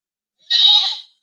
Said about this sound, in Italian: La pecora.